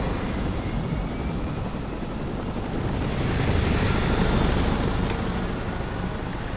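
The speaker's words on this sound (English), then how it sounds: "And now we're on a plane. Or a chopper." Helicopter engine and rotor drone in the Resident Evil 6 video game, a steady loud broadband roar that swells slightly midway, heard alone with no talk.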